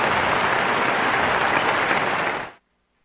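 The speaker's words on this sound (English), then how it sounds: "I think the applause was for what you said" Audience applause at a Christmas awards ceremony, full and steady for over two seconds before cutting off abruptly into silence.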